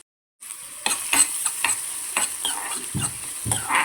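Capsicum and mushroom sizzle in a hot pan while a spatula stirs them, giving steady frying hiss broken by several scraping strokes, close and fairly quiet.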